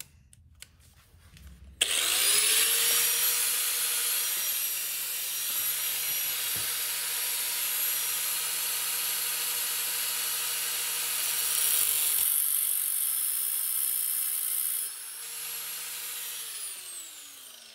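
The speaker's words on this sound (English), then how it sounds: "what I want to do here is make a slit across the top like a flathead" Power tool cutting a slit across the top of a burnt part, starting abruptly after a short quiet moment and holding a loud, steady, high-pitched grinding whine before winding down near the end.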